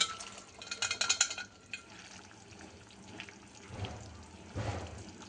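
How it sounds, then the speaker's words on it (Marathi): A small splash of water poured into a pan of boiled black chana masala, a short hissing, sloshing pour followed by quieter stirring sounds in a home kitchen. "थोडंसं पाणी टाकते"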